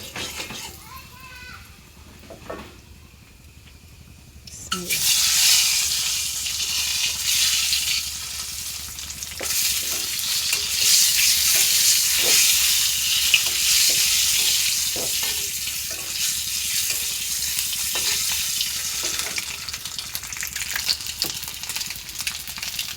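Onion and spices hit a hot pan and break into a loud, sustained sizzle that continues to the end, following a quieter stretch where a voice talks faintly.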